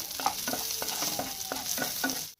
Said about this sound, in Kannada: ಇಲ್ಲಿ ಎಣ್ಣೆ ಬಿಸಿ ಆಗತ್ತೈತ್ರಿ ಉತ್ತಿಗೆ ಕಟ್ ಮಾಡಿದಂಥ ಉಳ್ಳಾಗಡ್ಡಿ ಒಂದೆರಡು